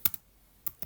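Keys tapped on a computer keyboard while entering text in Python: three quick, crisp clicks, one pair close together near the start and two more after a pause, with no talking.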